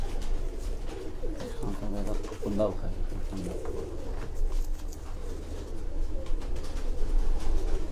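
Low, throaty cooing comes from a loft of champion pigeons in Lahore, repeating in soft rolling phrases while someone talks over the birds.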